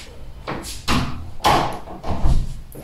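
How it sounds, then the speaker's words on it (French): A door pushed shut in a building where sound resonates, with several thuds and knocks spaced across a few seconds, moderately loud and close by. "sinon je vais pousser la porte"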